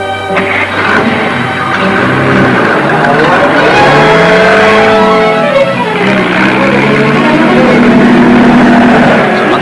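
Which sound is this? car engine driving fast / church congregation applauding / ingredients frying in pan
car engine driving fast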